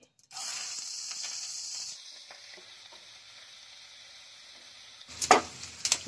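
Finely chopped small onion tipped into hot oil with crackling cumin seeds for a paneer curry, giving a loud steady sizzle for two seconds that settles into a softer continuous frying hiss, then a few sharp clatters near the end.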